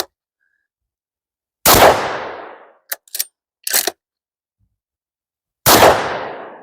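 A Howa MVP rifle in .308 or 300 Blackout fires two loud, sharp shots about four seconds apart, each followed by a long fading echo. Short metallic clicks and clanks from the action fall between the shots.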